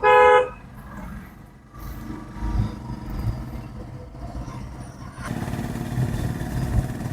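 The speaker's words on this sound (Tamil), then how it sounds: "ஹார்ன் யூஸ் பண்ணுங்க ஒரு தடவை." A car horn honks once, loud and close, a short harmonic blast at the start, followed by a low engine hum inside the car during a beginner driving lesson.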